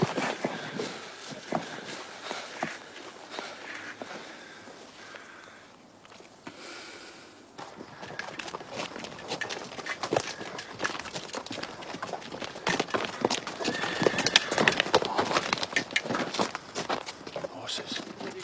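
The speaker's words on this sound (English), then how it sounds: "Horses." Several horses' hooves clip-clop in an irregular rhythm, fairly close and steady, getting busier and louder in the second half, with snorting and sniffing mixed in and people talking over parts of it.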